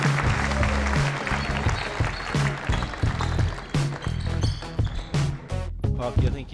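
Crowd at a squash match cheering and applauding, loud and continuous, mixed with the sharp bounces and squeak of play on court, with commentary voices heard over it.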